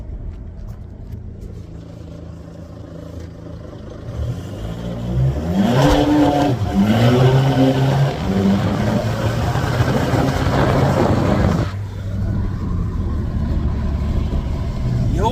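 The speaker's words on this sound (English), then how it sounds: "probably roll some coal on the way out of this Jetta" A Volkswagen Jetta diesel accelerating hard while rolling coal, the engine rising from a low drone into a loud climbing roar through the gears, then easing back to a steady rumble.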